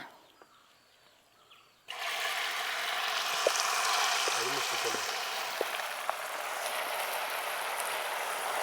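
Semolina (rava) is poured into a hot pan of caramel for an evening snack, starting with a sudden broad sizzle that stays loud and steady, with light clinks as it is stirred and no talk.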